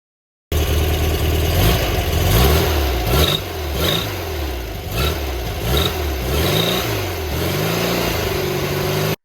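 A restored VW Bus engine pulls while driving, a loud close drone that rises and falls through several gear changes and revs, steady throughout with no talk over it.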